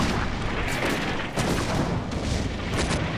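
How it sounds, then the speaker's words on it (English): Artillery shells land in the World War II strategy game Combat Mission: Afrika Korps, a dense, continuous rumble of blasts and crackling fire with several sharper impacts breaking through over about three seconds. "now the artillery started landing"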